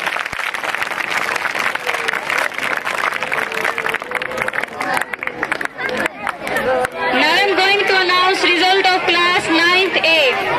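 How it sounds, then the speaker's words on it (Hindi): Audience at a school annual results program applauds and chatters loudly, a dense wash of clapping and crowd babble that swells near the end, with a voice heard over it. "आपकी तालियां उतनी बिंदास नहीं है।"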